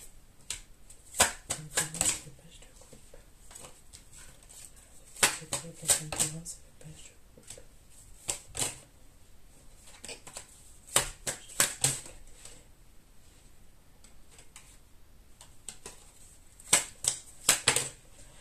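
Tarot cards shuffled by hand, several bursts of riffling and flicking spread out over the span with quiet gaps between, close up, alongside a voice speaking French.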